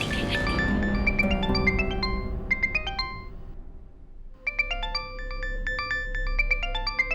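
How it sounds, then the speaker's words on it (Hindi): A mobile phone plays a bright melodic ringtone, repeating chiming phrases, pausing briefly, then starting again, loud and close. "रे मीना बीननी, थारो फोन आयो है।"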